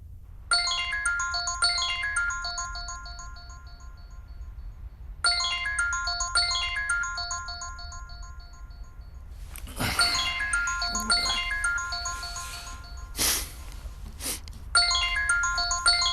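A phone ringtone sounds for an incoming call, a repeating chime melody of bright tones in several bursts with short pauses between, fairly loud with brief other sounds mixed in and no talk.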